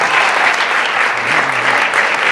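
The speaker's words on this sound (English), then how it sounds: "so if you guys give a round of applause to Rick." A talent show audience gives a loud, dense round of applause, sustained and even, with faint cheering voices under the clapping.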